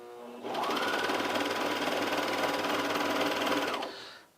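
A Juki MO2000QVP serger runs steadily while sewing a shirt seam. The rapid mechanical whirring is loud and close, starts abruptly after a brief pause, holds an even rhythm for about three seconds, then stops.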